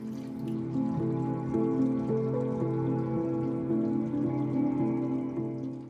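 Water pours into a pot of toasted rice, a steady close filling sound with a gently rising pitch as the level climbs, heard alone for several seconds.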